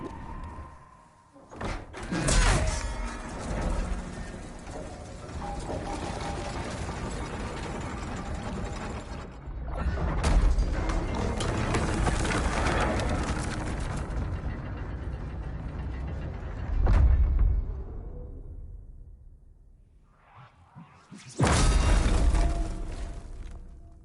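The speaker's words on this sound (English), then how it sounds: "Let me go pull the lever." A lever being pulled in the video game Demon's Souls Remake, giving mechanical ratcheting and grinding gear sounds in several loud bursts, the last sharp and sudden, with no talk.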